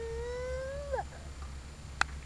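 A cat lets out one long, drawn-out meow that bends downward at the end, followed by a brief sharp click.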